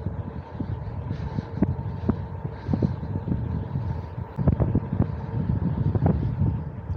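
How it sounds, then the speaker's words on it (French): Wind rises on a long-distance journey through forest, a steady low rumbling buffet with irregular gusts and thumps against the microphone, continuous and fairly loud, with no talking. "Il y a le vent qui s'est levé là aujourd'hui."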